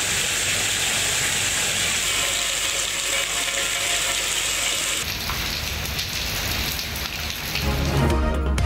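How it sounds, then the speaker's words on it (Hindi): Heavy monsoon-style downpour in the Lahore and Islamabad region, a dense, loud, steady hiss of rain on surfaces that shifts in tone partway through, with no voices. "लाहौर, इस्लामाबाद समेत मुल्क के मुख्तलिफ इलाकों में मूसलाधार बारिश।"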